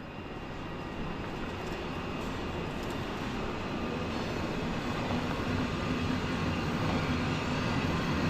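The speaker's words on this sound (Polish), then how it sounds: "pociąg górski rusza w dalszą drogę." Mountain train pulling out of Warszawa Zachodnia station in winter: a broad, steady rumbling roar with a whining tonal edge holds at constant loudness throughout, no voices.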